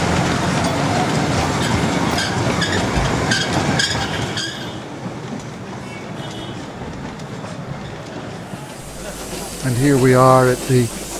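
A narrow-gauge Darjeeling Himalayan Railway train rumbles and clatters past at close range through a street between Kurseong and Darjeeling, with hissing and rhythmic rail clacks, then a loud horn sounds near the end.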